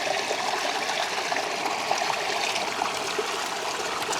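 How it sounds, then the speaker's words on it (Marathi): Flowing stream water in a jungle on a trek near Badlapur, a steady broadband rush and trickle continuing evenly throughout, fairly close, with no voices. "तर आता इथं तो वाहता पाणी आहे"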